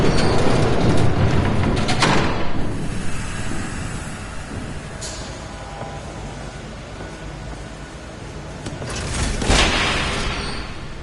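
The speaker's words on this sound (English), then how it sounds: "There's a train coming." In a Batman video game, a train rumbles past for several seconds with a steady mechanical roar, rising bursts of clatter at the start and again near the end, and no talking.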